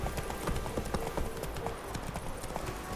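Roach the horse gallops in The Witcher 3, a steady rapid clip-clop of hooves running close and continuous for the whole stretch, with faint game ambience behind.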